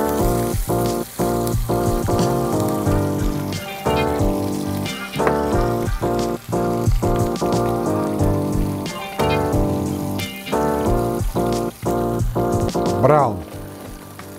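Chicken for caramel chicken sears in a hot pan with a steady, loud sizzle and crackle. A voice talks over the frying throughout.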